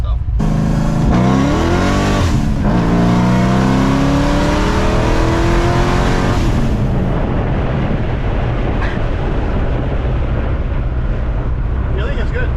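A boosted, cammed C6 Z06 Corvette pulls hard on the street, its engine climbing steeply through the revs in loud rising sweeps, then a rougher, noisier roar as it keeps driving.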